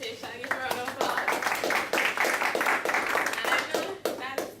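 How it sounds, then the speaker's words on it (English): Members of an audience at a Toastmasters-style presentation session applaud, dense, steady hand clapping that swells for a few seconds and then thins out, fairly close and clear, with a voice speaking faintly in places. "Give her a round of applause."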